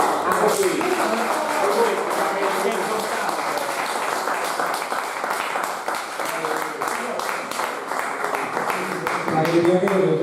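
Applause from an audience at a folk evening of songs and poetry in Ossi, steady clapping from many hands that carries on throughout while someone talks over it.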